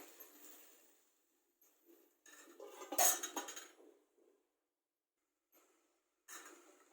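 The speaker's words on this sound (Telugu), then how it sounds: "ఒకసారి ఇలా మధ్యలో కలుపుకుంటూ ఉంటానండి, లేదంటే కింద అడుగంటిపోతుంది." Spoon stirring tomatoes and millet rice in a pan, with scattered metallic scrapes and clinks coming in short bursts separated by pauses, one louder cluster in the middle.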